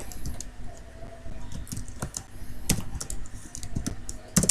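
Code being typed on a computer keyboard, with steady bursts of quick key clicks, some louder taps standing out, close and with no talking.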